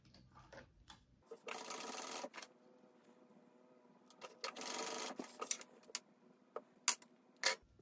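A sewing machine sewing D-rings shut onto a backpack in two short bursts of stitching, close and fairly loud, with clicks and handling noises around them.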